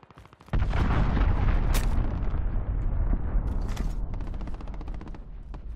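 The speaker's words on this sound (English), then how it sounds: "Allied cruise missile away." A cruise missile strike in Call of Duty: Modern Warfare lands with a sudden loud explosion after a short quiet lead-in, then a long rumbling roar that slowly fades, with crackles over it.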